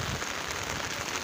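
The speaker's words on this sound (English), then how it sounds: "It has been raining like since morning." Steady rain pours down in a soaked rainforest in the morning, a dense, continuous hiss of drops striking leaves and wet ground, close and uniform throughout with no other sounds.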